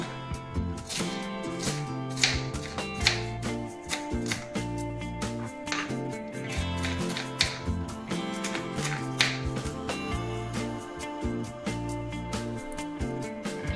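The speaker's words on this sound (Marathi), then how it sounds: "जमेल तेवढा बारीक चिरा" A knife finely chops ingredients for hash browns on a board in quick, irregular tapping strokes, close and crisp, over a tonal background.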